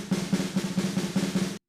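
A sampled snare roll from the Modern and Massive drum library by Get Good Drums, a fast continuous buzz of even strokes with slight pulsing accents, heard alone and up close.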